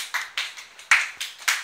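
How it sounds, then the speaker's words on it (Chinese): A classroom of students claps in a steady, even rhythm, about seven sharp claps spaced evenly apart, fairly close and with no talking. "掌声鼓励，最后一个"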